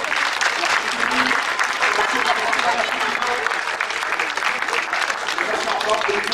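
Crowd applause for referees at a youth football tournament for under-10 and under-11 players, sustained clapping from a sizeable gathering with voices mixed in throughout.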